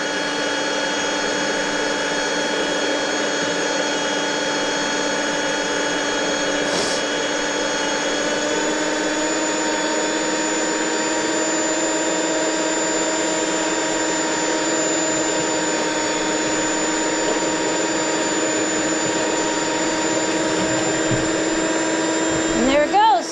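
A flexshaft drain snake machine spins inside a mainline sewer pipe cutting tree roots, a loud continuous motorized whine with steady harmonic tones that holds level throughout, with a brief knock partway through.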